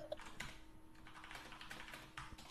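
Faint, rapid clicking of someone typing on a computer keyboard, a quick irregular patter of keystrokes in a quiet room.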